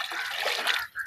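Water pouring steadily into a bucket during an outdoor string-breaking challenge, a continuous close splashing rush with a brief dip near the end as the bucket fills.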